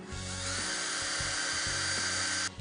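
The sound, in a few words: drill boring through a pole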